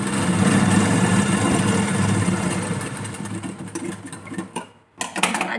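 A sewing machine stitches a hook-and-eye strip on a blouse, running as a continuous close mechanical whir and rattle. It slows and briefly stops near the end, then restarts.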